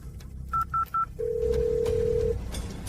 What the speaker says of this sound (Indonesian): Benar Dewi, cepat telepon Rizky.